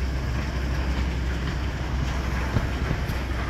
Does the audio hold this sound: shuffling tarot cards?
no